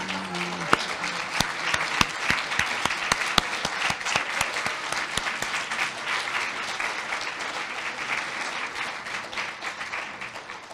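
A large audience claps together in honor of LGBTQ elders at a memorial lecture, with sharp individual claps at the start that merge into a steady, sustained wash of applause lasting several seconds.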